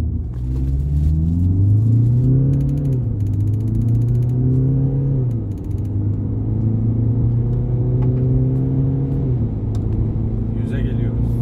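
A 2023 Peugeot Rifter GT accelerates hard in a launch test, its engine note climbing steadily and dropping at each gear change, loud and close throughout.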